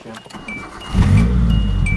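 Hyundai manual car starting: a short whir of cranking, then the engine catches and settles into a low, steady idle, close by, with a voice briefly heard at the start.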